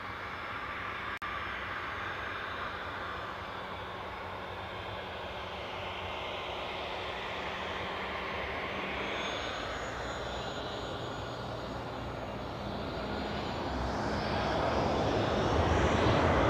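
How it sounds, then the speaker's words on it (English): A Ryanair airliner arriving from Gdansk at Newcastle airport, a broad continuous engine roar heard from a distance that swells louder toward the end, with no voices over it. "that's Ryanair incomer from Gdansk"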